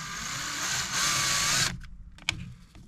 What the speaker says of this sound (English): drill the little hole